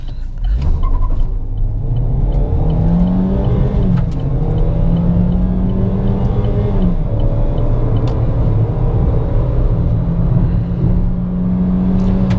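A 2016 Chevrolet Cobalt Elite 1.8 with a six-speed automatic, running on ethanol with the air conditioning off, accelerates hard. Its engine drone is loud and continuous, rising in pitch and dipping at each gearshift.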